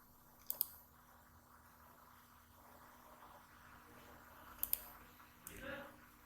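Mouse clicks while designing in Canva, two quick pairs of crisp, close clicks separated by a few seconds of near-silence, with a soft rustle at the end.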